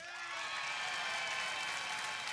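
Dense applause from a studio audience on the Sábado Gigante variety show, a continuous wash of clapping at moderate volume with no voices over it.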